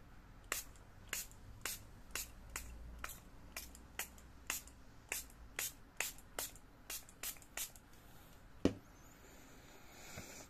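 A pump spray bottle of mica spray is pumped onto blush in a quick run of about fifteen sharp, evenly spaced spritzes, close and fairly quiet, with a single louder click near the end.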